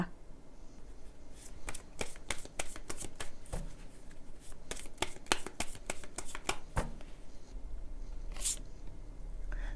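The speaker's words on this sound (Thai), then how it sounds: "ต่อไปแม่หมอเปิดไพ่ Oracle เสริมให้นะคะ" Oracle cards shuffle close by in quick, crisp riffling bursts, a dozen or so sharp flutters spread over several seconds against quiet background, with no talk.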